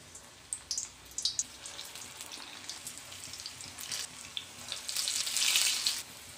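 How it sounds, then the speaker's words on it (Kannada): Methi (fenugreek leaf) pakoda deep frying in hot oil in a kadai, giving a steady bubbling sizzle that swells into a louder hiss near the end, alone without talk. "ಡೀಪ್ ಫ್ರೈ ಮಾಡೋದಕ್ಕೆ ನಾನು ಒಂದು ಬಾಂಡ್ಲಿಯಲ್ಲಿ ಎಣ್ಣೆ ಬಿಸಿಗಿಟ್ಟಿದ್ದೀನಿ"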